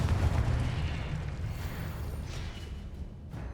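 A Confringo spell explosion in the wizarding game Hogwarts Legacy: a heavy, deep boom right at the start that rolls off into a long fading rumble.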